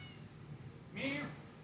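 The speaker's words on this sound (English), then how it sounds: "Meow." A house cat named Doodle, sitting outside near a tent, gives one short, rising meow close by after a moment of quiet background.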